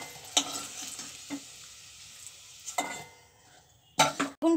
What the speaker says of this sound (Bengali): বেগুনটা দেখো লাল লাল হয়ে এসছে, আমি বেগুনগুলোকে তুলে নেব।